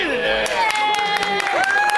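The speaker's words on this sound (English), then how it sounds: "round of applause please" An audience at a sea angling awards ceremony gives a round of applause, steady clapping with scattered cheers and voices mixed beneath it.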